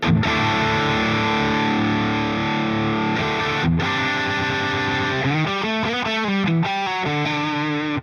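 A heavily distorted electric guitar through AmpliTube 5 amp simulator software plays sustained, buzzing chords, then shifts into quicker changing notes near the end, loud and continuous throughout.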